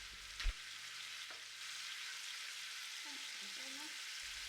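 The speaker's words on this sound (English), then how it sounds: "Then add shiso kombu tsugudani and stir fry for 1 to 2 minutes." Shiso kombu tsukudani stir-fried in a pan for a Japanese home-cooked meal, giving a steady soft sizzle with a brief clack of a utensil near the start. No talk.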